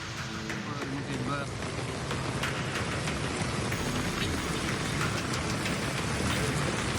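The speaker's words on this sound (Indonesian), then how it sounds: "Angin kencang disertai hujan deras" Dense, steady downpour roaring continuously during a tornado at a coastal food stall area in Bangkalan, East Java, with gusty wind noise blending into a broad wash of rain throughout.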